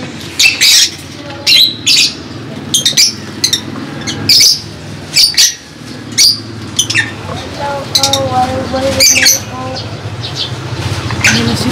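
African lovebirds at home let out sharp, loud squawks in repeated bursts, with softer chirps between them, close by and indoors.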